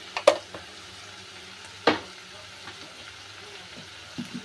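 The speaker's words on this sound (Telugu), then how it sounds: "కొంచెం సిమ్లో పెట్టుకొని ఆయిల్లోనే ఒక 2 మినిట్స్ మగ్గనిద్దాము" Sliced okra cooks in oil over a low flame with salt added. A faint, soft sizzle sits under two sharp utensil clanks against the pan, and a few lighter taps come near the end.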